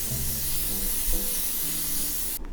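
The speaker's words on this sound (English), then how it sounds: "to lock everything in place, I'm using the L'Oreal Infallible 3-second setting mist" L'Oreal Infallible setting mist is sprayed onto a face in one continuous, soft, breathy hiss of about two seconds, close and fairly quiet, before stopping abruptly.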